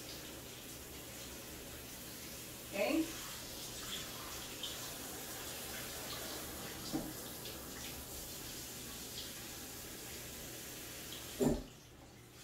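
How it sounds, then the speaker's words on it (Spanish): Water is poured over chopped green bananas during home cooking, a steady broadband wash of splashing and running liquid throughout, with a few brief louder knocks or clatters at moments; a voice says a word briefly. "Le voy a echar un poquito de agua para que ellos vayan botando el calor."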